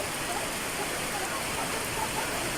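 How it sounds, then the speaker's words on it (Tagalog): Heavy rain pours steadily beside a swollen stream, making a dense, constant hiss with no breaks, close and loud throughout. "Ayan, ulan na naman."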